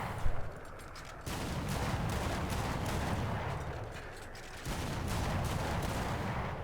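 Type 65 self-propelled anti-aircraft gun in the War Thunder tank game firing armor-piercing rounds: a sharp opening report, then sustained rapid automatic bursts that run as a dense, loud roar, pausing briefly before resuming.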